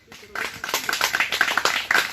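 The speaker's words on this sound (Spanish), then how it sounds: "Damos palmas al Señor" A church congregation claps hands in praise during a worship service, a dense, fairly close burst of rhythmic clapping that starts abruptly and continues steadily, with a voice speaking over it.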